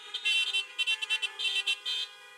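Car horns honking in repeated bursts at a drive-in church service, several beeps overlapping in an uneven rhythm, moderately loud with no voices over them.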